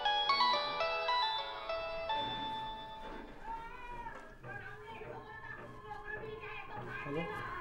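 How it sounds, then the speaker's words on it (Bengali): A mobile phone ringtone plays a bright melodic tune indoors, fairly faint, with a voice and meow-like calls mixed over it. "হাই তোর ফোন বাজে।"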